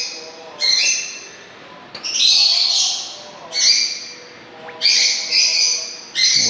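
Birds chirp and squawk in repeated loud bursts around a parking area, shrill calls coming in clusters with short pauses between them.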